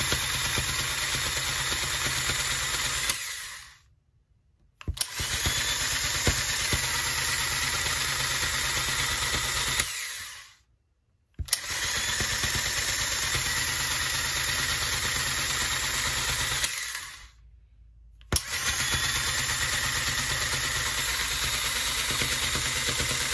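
An electric tufting rug gun cut-pile sews yarn into fabric with a loud, continuous buzzing whir in three long runs, each separated by a brief pause of near silence.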